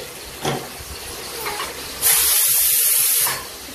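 A kitchen pressure cooker's whistle lets off a loud, sharp burst of hissing steam lasting just over a second, preceded by faint, muffled household sounds.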